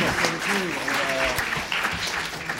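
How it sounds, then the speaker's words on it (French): Applause from a colloquium audience after a talk, steady clapping filling the room while a person talks over it in the foreground. "On peut applaudir."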